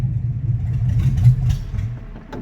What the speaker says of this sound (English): So you can hear the fan running.